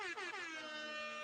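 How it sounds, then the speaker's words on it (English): A loud, blaring air horn blast held for just over a second, dense with harmonics and slightly wavering in pitch, with no voices. "Air horn."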